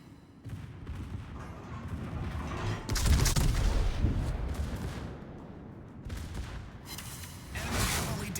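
Secondary battery guns on the battleship Bourgogne in a naval video game fire in rumbling volleys. Heavy booming bursts near three seconds and again near the end rise above a continuous rolling din of gunfire.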